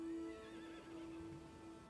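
A horse whinnies in the open-world video game Crimson Desert, a wavering, quavering neigh close by over quiet ambient game sound, with faint hoof clops.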